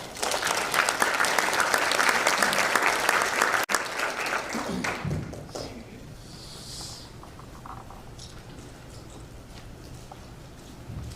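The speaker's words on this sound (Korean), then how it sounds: "큰 박수로 모시겠습니다." A hall full of people at a Korean Christian association's inauguration and New Year gathering breaks into loud, dense applause that lasts about four seconds, then fades into quiet room noise and faint scattered sounds.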